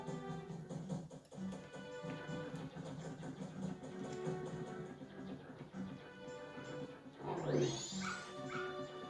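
A dog in the video game The Legend of Zelda: Majora's Mask barks and yips in short, repeated bursts over steady game music, with a brief rising sweep near the end.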